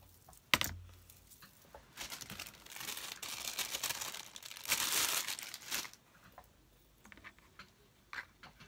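Paper for a Post-it note cover is cut and handled nearby, making soft, scattered crinkling, rustling and snipping sounds in short bursts, with a sharp tap near the start and a denser rustle in the middle.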